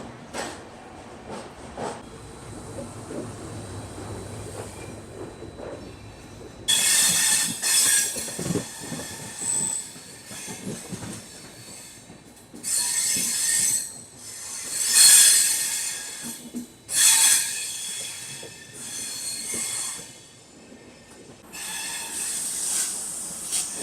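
Poorvottar Sampark Kranti passenger train rolling toward Guwahati station, its wheels squealing in loud recurring bursts over a steady rumbling, clattering run, with no talking.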